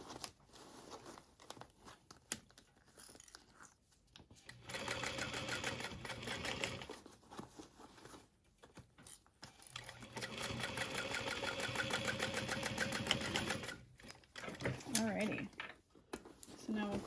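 A sewing machine stitches a crossbody bag in bursts of steady, rapid whirring, pausing between seams, with quiet handling noises in the gaps.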